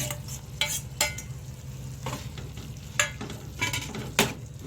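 Roasted eggplant is stirred into masala in a pan, with a low sizzle underneath and about eight distinct scraping strokes of a spoon at irregular intervals.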